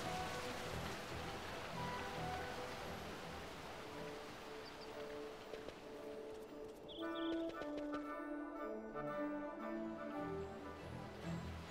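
Steady rain patters and hisses throughout at moderate volume, with a few soft tonal sounds rising near the end, in Final Fantasy XII.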